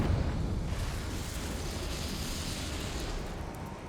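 A Confringo fire spell bursts in Hogwarts Legacy, a dense rumbling roar that starts loud and settles into a sustained crackling wash lasting several seconds, with no voices.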